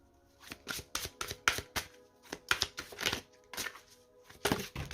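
Tarot cards being shuffled by hand, close and fairly soft, in a run of quick riffling bursts separated by short pauses, with two cards jumping out of the deck.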